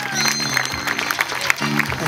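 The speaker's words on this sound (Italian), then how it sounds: "Facciamo un applauso ai nostri 5 baby dance" A small audience claps for five young children who have just danced. The applause is brief and scattered and sounds over background music.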